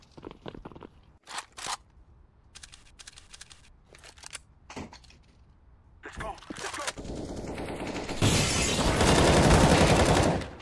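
Bursts of gunfire in Counter-Strike: Global Offensive, scattered short volleys early on, then dense sustained shooting building louder toward the end.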